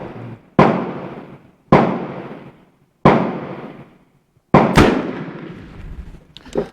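Four loud, close Martini-Henry rifle shots fired with reloaded cartridges using a black powder substitute, each a sharp blast followed by a long rumbling decay, spaced about a second apart, with a faint rattle at the end.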